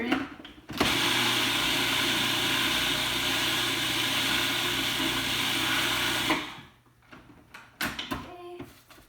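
A food processor whirs steadily for about six seconds, blending ginger into a raw veggie pate, then cuts off, followed by light clicks and knocks of the lid and bowl.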